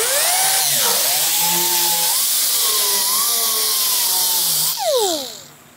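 An angle grinder works metal on a 1960s GMC/C10 truck window, its high whine rising and dipping in pitch as it loads against the steel, then spinning down near the end with a brief pitch sweep.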